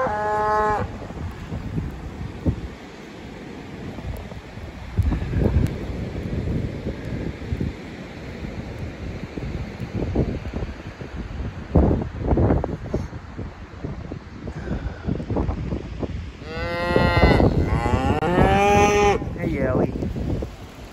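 Cattle moo outdoors in a winter storm, several low, drawn-out calls near and far over gusting wind noise on the microphone, with a person speaking briefly.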